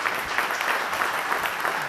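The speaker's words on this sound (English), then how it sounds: "let's give one last round of applause." Short burst of audience applause closing a talk at an education technology event, dense steady clapping from a room of listeners, fairly loud and close for the whole moment.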